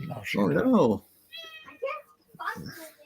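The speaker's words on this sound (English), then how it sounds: "that's the cat." A cat meows a few times indoors in a home, brief mewing calls interleaved with people talking nearby, the speech louder and more continuous than the cat.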